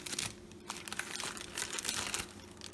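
Spigen car mount packaging is ripped open by hand, a close, continuous crinkling and tearing that runs for a few seconds without talk.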